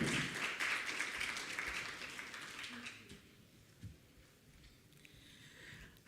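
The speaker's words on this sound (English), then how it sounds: "I believe that clap was for me." Applause at the close of a conference session on Africa's development finance, a soft, fairly distant clapping that fades out within about three seconds, leaving a quiet room.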